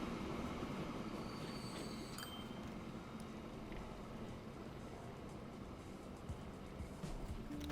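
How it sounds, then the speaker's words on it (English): A General 4-4-0 steam train pulls into a station in the Transport Fever 2 video game, a steady rolling rumble with wheel squeal and faint clicks holding at even loudness throughout, no talk. "And in comes the train."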